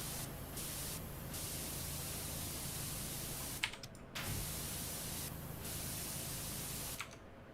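Continuous hiss of a pressure washer spraying in the video game Power Wash Simulator, steady and close, broken by a few short gaps where the spray cuts off, no talk.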